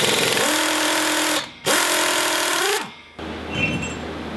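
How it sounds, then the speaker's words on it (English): A power tool removing wheel spacers from a car's rear hub: two loud, buzzing bursts of about a second each, close by, followed by quieter rattling. "So I'm gonna pop my wheel spacers off now"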